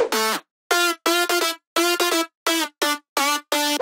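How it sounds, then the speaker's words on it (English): A dry future house synth lead, heard with no processing, plays bright, buzzy rhythmic stabs in short bursts with clean silent gaps between phrases. "Without any processing our lead sounds like this."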